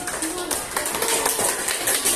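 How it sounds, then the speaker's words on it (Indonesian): Classroom applause for a student group presenting in a sixth-grade primary school class, scattered steady clapping with children's voices chattering throughout, moderately loud and close. "Sekarang kita berikan tepuk tangan untuk kelompok 4."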